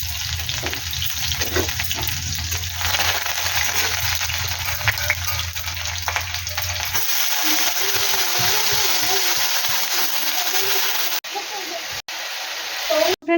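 Sliced ivy gourd (kundri) frying in a pan on a gas stove, a steady loud sizzle with occasional stirring scrapes that quietens partway through, with brief clicks near the end.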